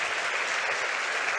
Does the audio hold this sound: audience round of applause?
yes